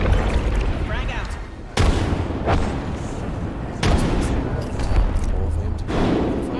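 Video game combat with a frag grenade blast and gunfire: loud booming explosions and bursts of shots, with heavy low rumbling hits recurring every couple of seconds, and voices talking throughout.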